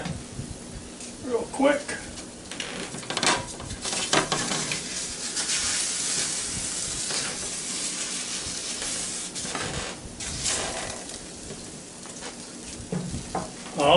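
Bacon frying in a Copper Chef 11-inch square pan, a steady close sizzle and crackle running throughout with occasional utensil scrapes and clinks, while a person speaks briefly over it.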